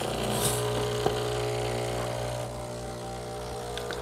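A Breville Barista Express espresso machine flushes water through its group head, a steady pump hum with a faint hiss of running water, close and continuous, with one brief click partway through.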